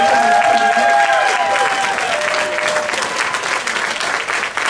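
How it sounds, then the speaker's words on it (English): Wedding guests applaud the toast givers at a reception in a hall, a dense, steady wash of clapping with cheering voices mixed in throughout. "how about a thunderous round of applause for all of our toast givers"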